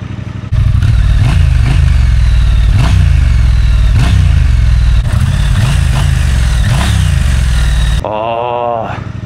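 A Triumph Speed Twin 1200 RS motorcycle's parallel-twin engine fires up and settles into a loud, close, throbbing idle with rhythmic blips of revving, before the sound drops away at the end.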